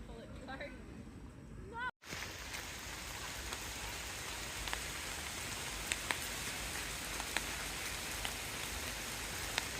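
Steady rain patters on a surface throughout, with occasional louder drips standing out against the continuous hiss.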